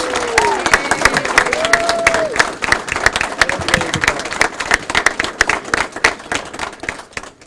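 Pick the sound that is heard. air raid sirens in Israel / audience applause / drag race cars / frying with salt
audience applause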